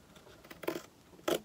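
Scissors cutting petals for a crow porch sitter craft, two quiet close snips about half a second apart against a faint room background.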